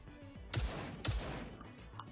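Turret gunfire in the video game There Came an Echo: two sharp, booming shots about half a second apart, followed by fainter distant pops, fairly quiet overall.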